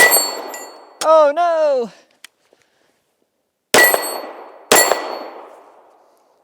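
A SIG P320 pistol dropped on a hard surface outdoors at a snowy range gives two sharp metallic clangs with ringing decay, near and loud, after a brief exclaiming voice.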